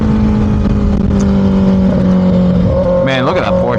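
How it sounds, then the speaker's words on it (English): A Porsche sports car drives by on a street, its steady engine drone rising into a brief, swelling rev near the end against constant background noise. "look at that Porsche. That's super clean."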